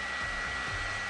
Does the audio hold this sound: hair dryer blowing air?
yes